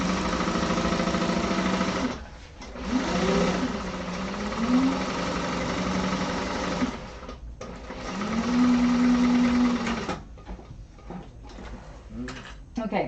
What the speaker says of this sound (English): I'm gonna do a second row of stitching